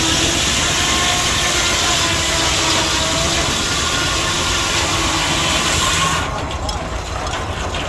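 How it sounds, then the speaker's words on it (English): An old steam engine powering a sawmill, a loud continuous mechanical rumble and hum close by that runs steadily before easing slightly near the end. "This old sawmill right here is being run by that steam engine right there."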